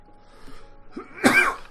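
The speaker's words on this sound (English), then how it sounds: "Sorry for the cough again." A single sharp, close cough bursts out after a brief quiet breath.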